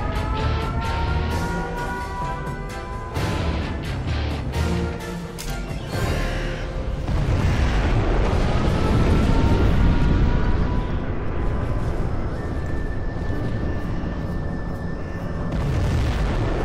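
A nuclear missile blast in Command & Conquer Generals Zero Hour, a China nuclear general match: a sustained, loud, rumbling roar of explosions with layered booms and a faint tonal whine, continuous for the whole stretch.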